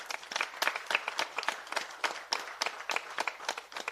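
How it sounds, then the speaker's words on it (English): A small group claps steadily for several seconds, a dense, even patter of hands, moderately loud with no voices over it. "Big round of applause."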